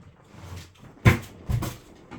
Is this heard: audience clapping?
no